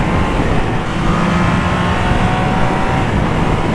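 A Triumph Trident 660 motorcycle's three-cylinder engine pulls hard in fourth gear on an open road, a loud steady roar mixed with wind rush that holds constant throughout with no voices.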